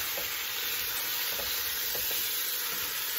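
Jamaican chicken feet cooking in a pot, a steady loud sizzle with faint stirring scrapes and knocks throughout, no voices.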